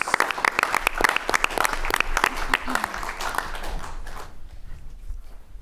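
Lively audience applause for a student pitch team at a pitch contest, sharp close claps and cheering that thin out and fade toward the end.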